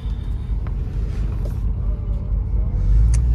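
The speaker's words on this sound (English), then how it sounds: "The exhaust on this car sounds really, really good." A Porsche Cayenne Turbo S's low exhaust rumble drones steadily while driving, swelling slightly louder near the end.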